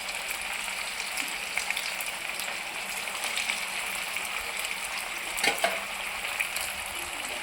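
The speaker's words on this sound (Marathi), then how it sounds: "तेल गरम झालेलं आहे, आपण आता आपले चीज बॉल टाकून देऊया।" Potato cheese balls deep-frying in hot oil over a low flame, a steady soft sizzle and bubbling hiss with a few faint pops, no talking.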